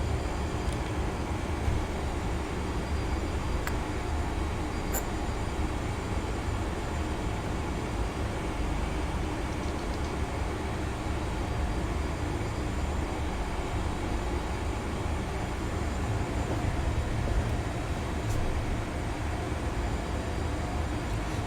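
Steady, even roar of CRJ900 jet airliner engines in cruise flight in a flight simulator, a constant broadband drone with no breaks across the whole stretch.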